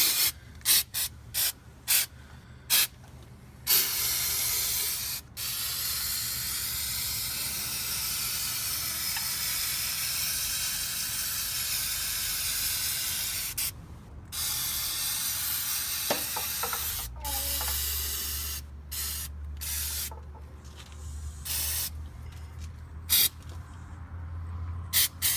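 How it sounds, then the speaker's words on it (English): Aerosol undercoating sprayed onto the pinch weld of a 2005-2010 Jeep Grand Cherokee WK, a loud steady hiss in long bursts with short pauses, plus some faint clicks and handling noise near the end. "spray on a liberal amount of the undercoating"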